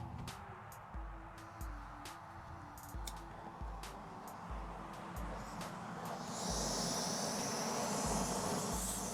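MSR Pocket Rocket backpacking canister stove burning on a low gas canister, a steady close roar of flame with a bright hiss rising louder toward the end, mixed with intermittent low thumps and clicks.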